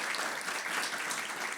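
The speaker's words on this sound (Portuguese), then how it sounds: "uma salva de palmas aqui ao nosso convidado" Audience applause for guest Fernando Rosas at a book fair talk marking 50 years of liberty, a steady, dense wash of clapping that holds evenly throughout without gaps.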